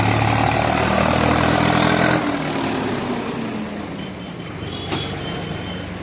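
A tractor hauling an overloaded sugarcane trailer idles with a loud, steady low engine drone, then the level drops slightly as the engine note shifts and continues running more quietly, with a brief knock near the end.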